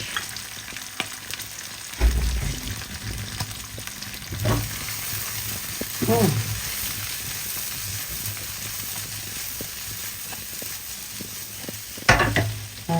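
Onion leeks and cabbage stir-fry in a hot pan, a continuous sizzle broken by several louder scraping stirs of the spatula, close and alone without speech.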